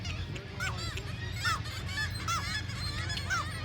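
Several geese honk repeatedly at Homer Spit in Alaska, moderately near, over steady wind and ambient outdoor noise, with no talking.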